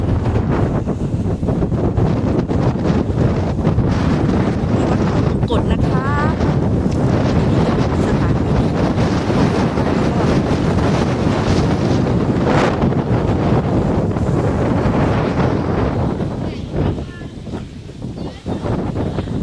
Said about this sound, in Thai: ลมแรงจริงๆค่ะ บรรยากาศเย็นฉ่ำค่ะ และลมก็แรงมาก ๆ ด้วยค่ะ